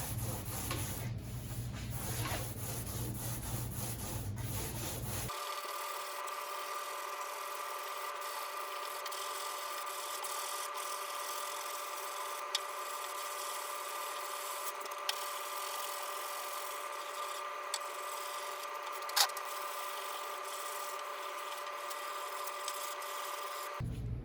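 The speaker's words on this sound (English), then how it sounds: "I got a fresh sheet of 180. First thing you do, just give it a light sand" Light hand sanding of car bodywork with a fresh sheet of 180-grit sandpaper, a steady close scratchy rubbing that continues for about twenty seconds after some brief handling noise.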